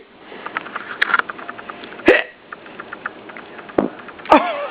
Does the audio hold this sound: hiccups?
yes